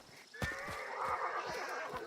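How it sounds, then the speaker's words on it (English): A horse whinnies in the video game Hunt: Showdown, a single drawn-out neigh fairly close, over faint background clatter. "Shut up, horse."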